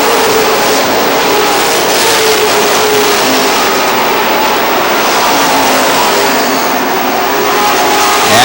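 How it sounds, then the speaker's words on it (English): Race car roaring past on the oval at Lee Speedway in New Hampshire, a loud, steady, jet-like engine drone that swells and holds throughout without any talk. "Dan Eddy, you listen to his car go by, and it sounds like a jet engine."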